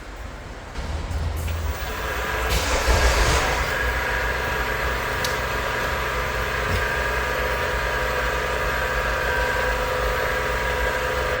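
Starter motor cranking an LPG car with a starting fault, a continuous strained whirring drone with a steady high whine that swells after a second and holds for about ten seconds, heard close.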